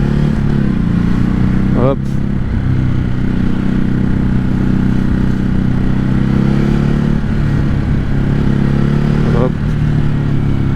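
A 2021 Ducati Hypermotard RVE motorcycle engine drones loudly and steadily close by, with quick quickshifter gear changes cutting in briefly around two seconds and again near nine and a half seconds, while a rider speaks over it.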